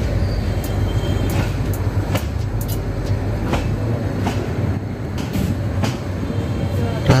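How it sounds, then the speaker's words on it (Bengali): A passenger train runs at night past Kulaura station on the Sylhet to Comilla route, heard from inside as a loud, continuous rumble with regular rail clicks throughout. "আমরা কুলাউড়া স্টেশন পার হলাম।"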